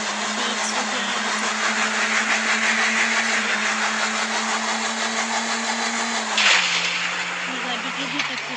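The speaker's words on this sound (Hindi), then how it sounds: "गाड़ी फुल 100 की स्पीड में चल रही है।" A car engine in a racing video game drones at a steady high pitch at full speed, then dips in pitch briefly. Someone talks over the engine throughout.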